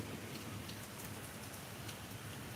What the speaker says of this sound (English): the rain isn't too loud